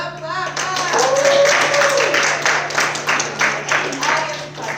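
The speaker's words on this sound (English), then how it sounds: "Clap, clap." Close, brisk clapping from a small audience at a student government debate, steady throughout the few seconds, with voices calling out over it.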